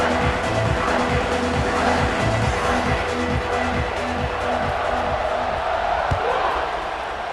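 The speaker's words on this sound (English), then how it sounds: "this crowd is feeling themselves after that last drive" Stadium crowd in the College Football 26 video game, a constant dense roar of cheering fans before a kickoff that holds loud and steady the whole time, with a commentator's voice and a repeating rhythmic chant or drum pattern underneath.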